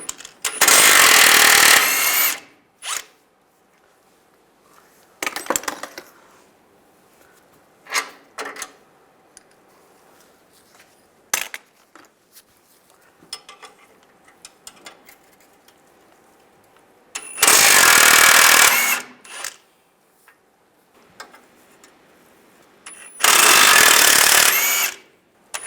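Bolts on the timing cover of a 2007-2013 Chevy Silverado are loosened with an 18mm wrench and socket, giving sharp mechanical bursts: two loud early blasts, scattered clicks and taps in between, then two more loud bursts near the end.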